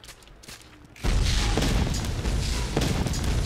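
A vulture blows up in the Borderlands 2 video game. A sudden heavy boom cuts in after a quiet moment and rolls on as a loud, rumbling blast, with crackling debris above it.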